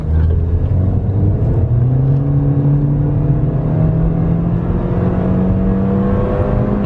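Turbocharged Toyota Corolla accelerating hard from 0 to 60, engine note climbing steadily through the gear with a continuous loud whir and drone heard from inside the car.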